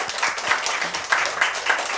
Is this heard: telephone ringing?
no